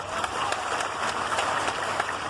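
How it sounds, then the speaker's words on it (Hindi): A crowd claps steadily at a political rally during a Union minister's road show at the Garhakota Rahas fair. The applause is dense and continuous, with sharp individual claps standing out throughout. "अरे ये रैली की ताली थोड़ी, ताली बजाओ तो ऐसी बजाओ।"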